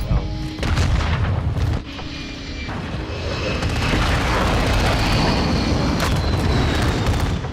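Rocket launcher blasts in Call of Duty: Modern Warfare II, heavy booming explosions with rumbling low-end tails, an initial hit followed by continuous roaring detonations and battle noise.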